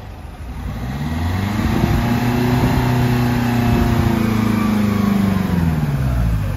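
A Ford Fiesta engine that is burning oil revs up and then holds a high, steady drone with a clear harmonic hum, loud and close, with no talking.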